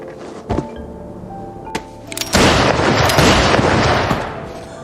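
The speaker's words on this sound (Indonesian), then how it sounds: "salah satu pembunuh bayaran malah menembak kedua pembunuh lainnya" Gunshots in a film scene of the Peaky Blinders season two story, where a hired killer shoots two others: a few sharp isolated bangs early, then a loud sustained burst of blasts and dense noise, with no speech.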